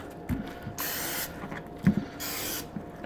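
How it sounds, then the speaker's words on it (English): Olive oil cooking spray hissing from a can onto raw chicken leg quarters in two steady bursts of about a second each, close by, with light handling taps between them. "I'm just going to spray them with, I just got some olive oil cooking spray"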